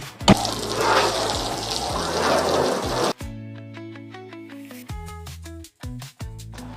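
Water sprayed over a roof skylight to test it for leaks, a steady broad wash for about three seconds before it stops and sparse tonal sounds and clatter follow.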